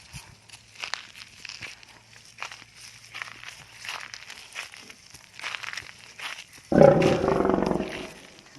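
A loud, deep tiger roar bursts in near the end after a stretch of quiet rustling and soft footsteps in a forest.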